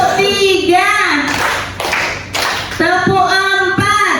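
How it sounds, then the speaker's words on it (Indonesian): Children clapping hands in counted claps during a classroom lesson, several sharp claps breaking through while children's voices speak and chant over and between them. "Tepuk 1, tepuk 2, tepuk 3,"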